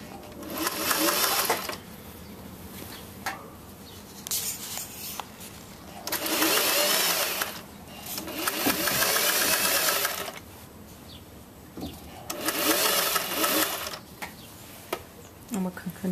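A sewing machine stitches a collar onto fabric in three long, steady whirring runs with quiet pauses between them, close by, while someone talks throughout.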